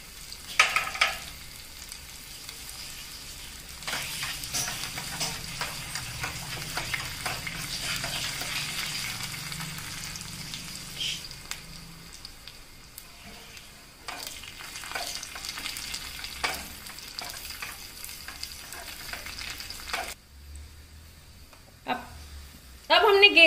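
Finely chopped garlic sizzles and crackles steadily in hot oil in a pan at moderate volume while a person talks over it, then the frying fades near the end.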